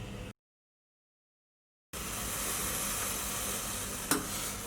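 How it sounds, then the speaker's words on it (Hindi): Milk and sugar heat in a pan on the stove over a high flame, making a soft, steady sizzle with some stirring. The sound drops out briefly to silence near the start, then returns. "मैंने दूध और चीनी दोनों डाल के इस तरह चूल्हे पर चढ़ा दिया है।"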